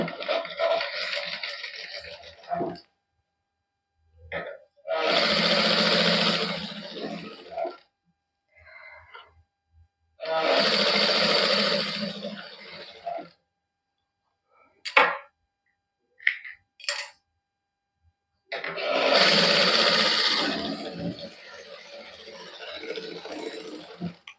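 A sewing machine stitches lace onto a sleeve in a boutique, running in several loud, steady bursts of a few seconds each. Quiet pauses with small handling noises fall between the runs.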